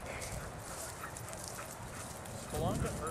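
A hound on a pine island gives a brief whining bark near the end, set against constant outdoor noise and people talking.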